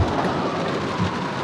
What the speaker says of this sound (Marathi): आता पावसाने खूप जोर पाऊस आहे